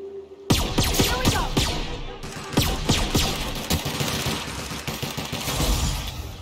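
Pistol fire in The Outer Worlds rings out as a series of sharp, separate shots at an irregular rhythm, loud and close, each followed by a brief ringing tail.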